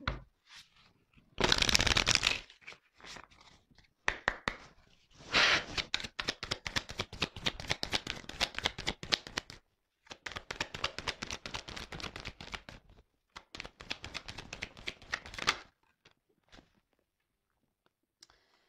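Tarot cards shuffled and drawn in repeated rapid riffling bursts of crisp papery flicks and clicks, close and fairly quiet, with brief pauses between bursts and no talking.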